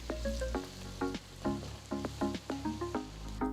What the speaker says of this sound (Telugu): వీటి అన్నిటినీ కూడా మీరు హై ఫ్లేమ్లోనే చకచకా వేయించాలి